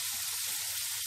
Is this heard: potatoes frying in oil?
yes